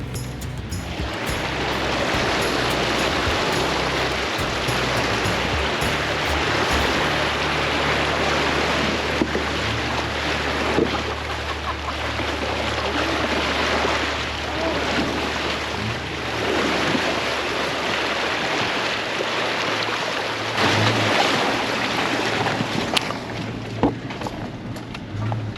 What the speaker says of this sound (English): That was gonna be one of my favourite river crossings I think I've ever done.